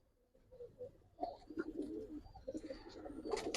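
Giribaz and coloured pigeons on a Bangladeshi pigeon farm coo and call repeatedly, with soft rustling and shuffling among the birds at close range, growing busier toward the end.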